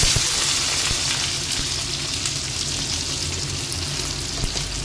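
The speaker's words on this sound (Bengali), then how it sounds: "পেঁয়াজটা ভাজবো, ক্যাপসিকামটা একটু পরে দেবো।" Onions frying in hot oil in a pan while making dry chilli chicken, a steady close sizzle with a dense crackling hiss running throughout.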